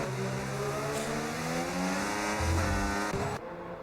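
Formula 1 race cars at the Dutch Grand Prix in the F1 25 game, one overtaking a Ferrari: loud, steady high-pitched engine whine with shifting revs, ending in an abrupt cut as a car passes.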